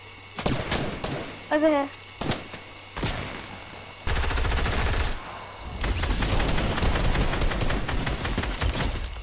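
Gunfire in the Fortnite video game: scattered sharp shots and then sustained rapid bursts, loud and close, with brief player chatter between volleys.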